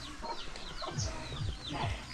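Farm chickens cluck in a steady, close chorus of short repeated calls, with some calls overlapping one another, heard on a Philippine village farm in the afternoon.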